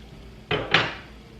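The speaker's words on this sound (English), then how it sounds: "I'm going to get my tortilla press out of the way." A tortilla press being set aside in a kitchen gives two quick knocks in close succession, a hard bump followed by a brighter clack, close and clear against a quiet background.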